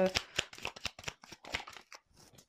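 Tarot cards shuffled and drawn from a deck at a reading, giving a rapid run of crisp, close card flicks and slaps that thin out near the end.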